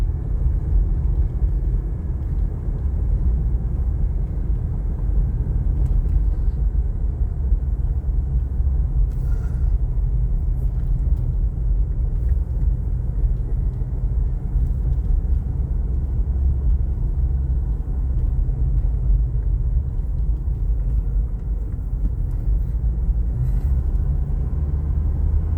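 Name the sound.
car climbing a steep road in second gear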